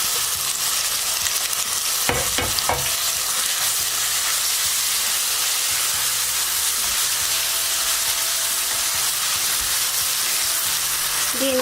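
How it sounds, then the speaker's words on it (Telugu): Boiled gongura leaves fry in a pan with a steady, close sizzle and crackle, broken by a few sharp clatters of stirring near the start, with no talking. "ఇప్పుడు ఉడకపెట్టుకున్న గోంగూరను కూడా దీనిలో వేసి 2 నిమిషాలు వేయించుకుందాం."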